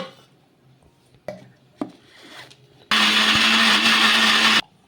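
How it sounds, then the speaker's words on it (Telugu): A few light clicks and taps, then a loud mixer grinder roars steadily for nearly two seconds, grinding leftover cooked rice with a little water, before cutting off abruptly. "కొంచెం నీళ్ళు అనేది వేసుకొని మిక్సీ పట్టేసుకోవాలి"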